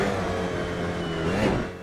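An Alpine A110 GT4 race car in the Assetto Corsa racing game, its engine droning steadily with a brief rise in revs near the end, heard alone.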